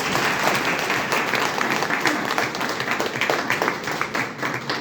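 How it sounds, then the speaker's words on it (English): An audience gives sustained applause as poets are welcomed onto a stage, steady dense clapping from a sizable crowd at even volume throughout, without a voice over it. "Let's welcome them with a big round of applause."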